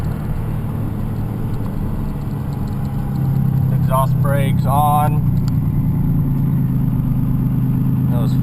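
A truck with a 6.2-liter turbocharged Cummins diesel pulls in fourth gear with the exhaust brake off, its low engine drone swelling louder as it accelerates while someone talks briefly over it.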